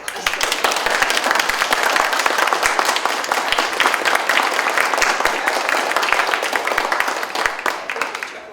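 Sustained, vigorous applause from the audience at a writers' symposium, many hands clapping densely and evenly for over eight seconds at close, steady loudness.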